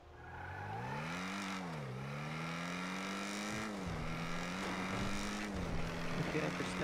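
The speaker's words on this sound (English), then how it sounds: "I can't hear you, the car is too loud." A car engine drones loudly and steadily inside a vehicle, its pitch rising and falling with speed changes, while talk runs faintly underneath.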